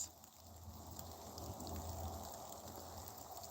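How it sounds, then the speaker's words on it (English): Rain falling outdoors in cold weather on a cleared patch of former woodland, a soft, steady, faint hiss of drops with no voices. "It's cold and it's raining"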